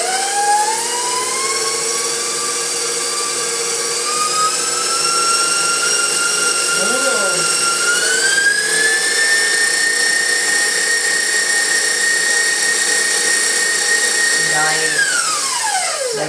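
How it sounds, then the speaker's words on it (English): An electric mixer whips cupcake icing with a loud, steady whine that shifts pitch slightly as the beaters work, continuous throughout and up close. "Okay, let's get this whipping up."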